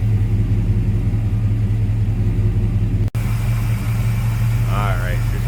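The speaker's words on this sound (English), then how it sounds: "Nice little rumble coming out of that 350 underneath the hood." A 1971 GMC K20 4x4 with a 350 V8 idling, a steady low rumble with an even throbbing pulse, close and loud throughout, a brief cut midway and a faint voice near the end.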